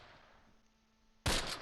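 Rifle fire in Close Combat: Panthers in the Fog, a sudden sharp crack after a quiet, near-silent stretch, loud and close with a brief ringing tail.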